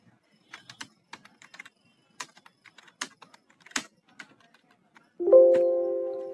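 Someone types on a computer keyboard while entering data in a spreadsheet, producing scattered, light key clicks in short irregular bursts, close and crisp, followed at the end by a brief ringing chime.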